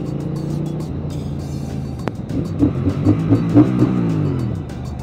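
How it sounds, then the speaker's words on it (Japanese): Triumph Speed Twin 900/1200 motorcycle engine idling steadily and then blipped several times, its revs rising in quick bursts. The bike sits close by and the engine runs alone, without voices. "ブンブンって吹かした。"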